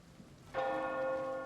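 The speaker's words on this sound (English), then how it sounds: "There goes the cathedral bell." Cathedral bell in the video game Oblivion, a single loud clang that rings out with a long sustained tonal hum, near and clear after brief quiet.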